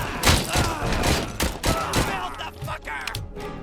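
Rapid gunfire bursts and heavy thuds in the RoboCop: Rogue City video game, loud and dense, with several sharp shots in quick succession and shouting mixed in.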